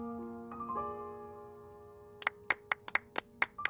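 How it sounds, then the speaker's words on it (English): Scattered hand claps in the Genshin Impact game, about eight sharp, separate claps following a sustained chiming musical tone, fairly close and clear with no talk. "A round of applause,"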